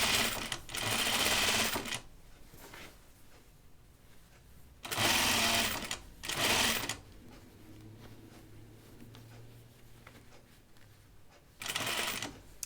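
A sewing machine stitching a caftan garment runs in three separate bursts, each lasting about a second or two, with quiet pauses between them; it sounds close and carries no speech.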